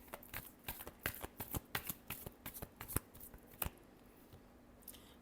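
Tarot cards are shuffled close up in a quick run of crisp, papery riffles and slaps that come in rapid bursts, then stop, leaving near silence.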